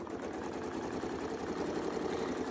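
A sewing machine stitches a quilt design with Westalee arc and curve templates, a steady, fast, even whirr of rapid stitching running throughout at a moderate, close level.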